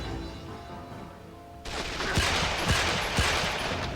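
Gunfire in the PS2 video game 007 Quantum of Solace at White's Estate: a dense, loud burst of shooting breaks in after a quieter stretch and carries on with a few sharp, heavier cracks standing out.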